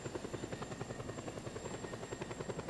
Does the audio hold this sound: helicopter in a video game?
yes